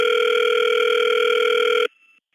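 A steady telephone tone plays loud and alone on a recorded call from a Mojave payphone, holding for nearly two seconds before cutting off abruptly into a brief faint remnant.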